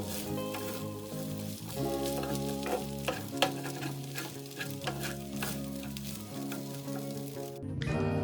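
Fried rice stirred in a pan with spring onions, a steady sizzle of frying under repeated scraping strokes of the spoon, close and continuous, with music playing throughout.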